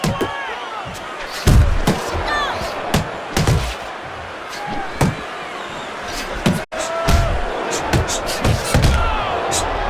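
Boxing punches land in a bout, including left-hand body shots: repeated heavy thuds and slaps in irregular clusters over crowd noise, with a commentator talking throughout.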